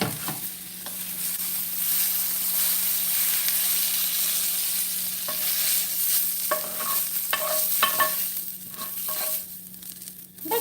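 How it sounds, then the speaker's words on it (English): Onions fry on top of fried sausage in a pan for blood pudding, giving a steady close hiss and sizzle broken by a few stirring scrapes toward the end, with no talking. "I'm going to put the onions over the fried sausage."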